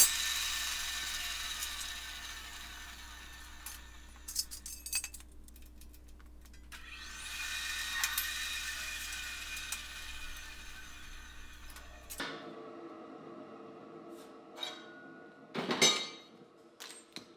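An ironworker machine shears a miter cut through steel angle stock, giving a steady mechanical hum for about twelve seconds that then drops away, followed by sharp metallic clinks and scraping near the end.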